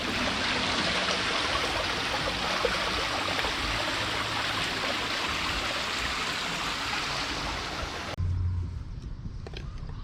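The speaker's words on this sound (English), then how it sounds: "Listen to the waterfall." A constant, broad rush of falling water from a waterfall at a lagoon in Thailand roars close by for most of the stretch, then cuts to a quieter outdoor background near the end.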